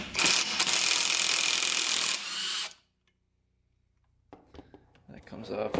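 A wrench ratchets loose a 19 mm nut on the crank of a Honda XR100 dirt bike, a loud rapid clicking for about two seconds, then a pause before faint clatter and handling noise return.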